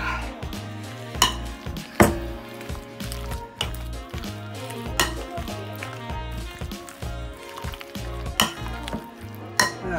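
Rosemary, lime and garlic chicken being stirred in a pan, with steady wet scraping and squelching broken by sharper clacks of the utensil against the pan, close and continuous.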